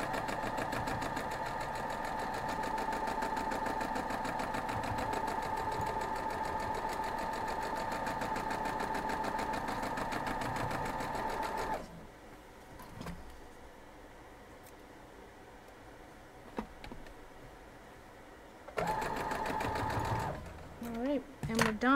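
A sewing machine stitches a quilt block in a fast, even whir for about twelve seconds, falls quiet for several seconds, then starts stitching again briefly.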